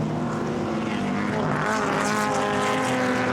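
Historic race cars lap at the Goodwood Members' Meeting, including a BMW and a Camaro, their engines a steady, loud, layered roar that builds slightly as they pass.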